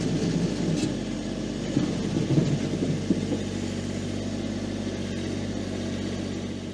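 The engine of an Iseki TXGS24 compact tractor loader runs with a steady low rumble and mild variations in revs, at a moderate level and fairly close, without speech.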